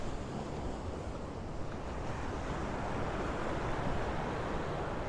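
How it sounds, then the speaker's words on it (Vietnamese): Night surf on the beach at Quy Nhon, a continuous broad roar of breaking waves mixed with wind buffeting the microphone, close and steady with no speech. "Ồ sóng biển kìa. Ôi sóng biển. Mạnh lắm."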